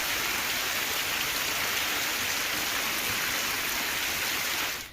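Steady, heavy monsoon rain pours down in Gujarat, India, in a dense, even hiss that continues without a break, then cuts off at the end.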